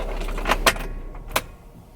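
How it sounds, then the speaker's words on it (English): A car is switched off and keys jangle in a few short metallic bursts close to the microphone, with a low engine hum fading out as the vehicle goes quiet; no one speaks. "I'm just gonna turn my car off."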